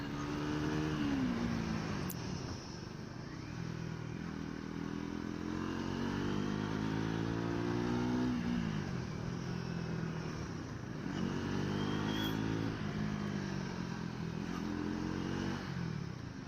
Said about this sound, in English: you can see how I am riding it in the city